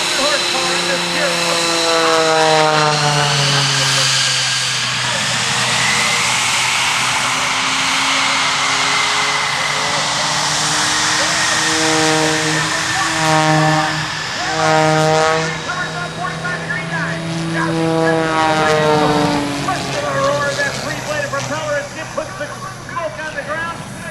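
A modified aerobatic airplane with a 400-horsepower engine performs at an air show. Its loud propeller drone rises and falls in pitch as it dives and climbs, with an announcer talking over it.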